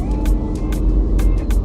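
A car driving on a morning commute: a steady low engine and road rumble from inside the cabin, loud and continuous, with a few brief higher bursts of noise over it.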